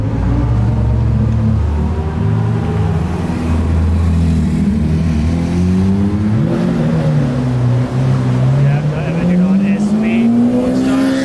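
A Lamborghini Huracán STO engine roars loudly and continuously on a Formula 1 circuit, pitch climbing and falling through gear changes as it laps nearby, with a voice talking over it.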